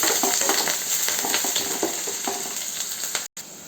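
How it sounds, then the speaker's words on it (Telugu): Onions frying with salt and curry leaves in a pan for mushroom curry, a loud close sizzle with quick stirring scrapes, cut by a short dropout near the end. "అలానే కొద్దిగా సాల్ట్ వేసి కొద్దిసేపు వేగనివ్వాలి"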